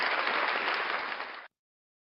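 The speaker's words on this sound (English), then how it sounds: "Round of applause for the Frauditor News Network" A burst of studio-style clapping for a show segment, a dense even applause that fades slightly before cutting off abruptly.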